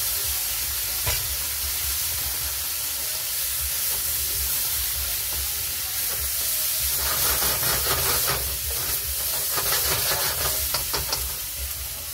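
Shrimp and vegetable dumplings stir-frying with soy sauce in a hot pan give a steady close sizzle and hiss, which brightens into crackly spattering bursts toward the end; no one talks.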